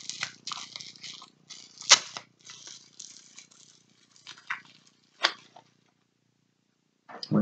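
Bubble wrap being unwrapped from a beauty product, with crinkly rustling and crackling in short bursts, a few sharper pops and crackles standing out, close and fairly quiet with pauses between handling.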